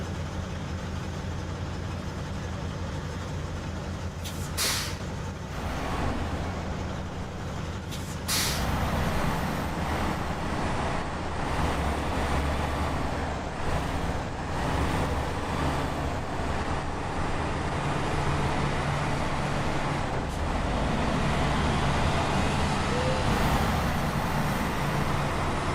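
Heavy truck in Gran Turismo 7 rumbling with a steady low engine drone, with sharp hissing air-brake-like bursts near the start and a constant broadband roar throughout, no talking.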